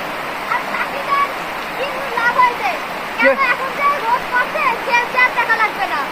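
Heavy rain pours alongside rushing, flowing water in a steady, loud wash, while voices and chatter break through over it at intervals.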